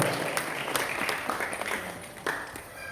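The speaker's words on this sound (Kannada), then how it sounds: "ಎಲ್ಲರಿಗೂ ಚಪ್ಪಾಳೆ ಮೂಲಕವಾಗಿ ಅವರೆಲ್ಲರಿಗೂ ನಾವು ಧನ್ಯವಾದ ಸಮರ್ಪಿಸೋಣ" Audience applause at a Durga Parameshwari temple function, a brief, moderately loud wash of clapping from a crowd that stays fairly even over a few seconds.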